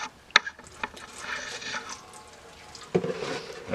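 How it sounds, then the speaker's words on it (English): Caswell epoxy gas tank sealer poured into a 1950 Harley Panhead motorcycle gas tank, a soft liquid trickle and slosh close by with a few sharp knocks against the metal tank. "pour it in there."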